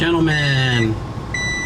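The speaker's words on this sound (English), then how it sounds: "that beeping is awful. I gotta disconnect that box." A box fitted to a Honda Acty kei truck on a dyno gives off a high electronic beep that returns after a short gap, while someone speaks over the start.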